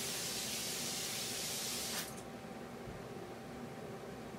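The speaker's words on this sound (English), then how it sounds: "you should always spray down and let it like fall on you instead of like spray in front of you" A Caudalie grape water face mist gives one soft, airy spray hiss lasting about two seconds and then cuts off, leaving quiet room tone.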